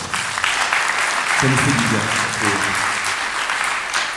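Audience applause welcomes Thierry Duclos, president of the Fondation des Ponts, at an evening event. Sustained, loud, dense clapping fills the room, and someone speaks briefly over it partway through.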